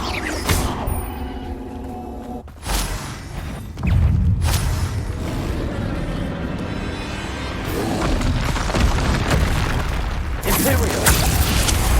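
Confringo blast spells go off in the Hogwarts Legacy game, a series of loud booming bursts and crashes with mechanical rumbling in between, sustained and dense through the stretch.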